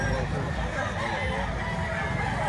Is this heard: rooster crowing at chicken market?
yes